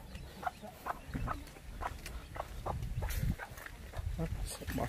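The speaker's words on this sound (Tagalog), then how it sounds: "Yan, native na manok." Native chickens cluck in short, repeated bursts at close range over outdoor background noise, with occasional louder squawks.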